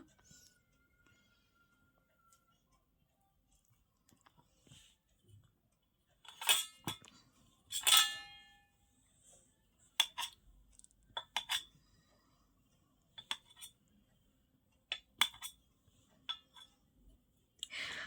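Knife cutting through firm homemade paneer on a plate, heard as a handful of sharp clinks and taps spread across a quiet stretch, each one brief and close.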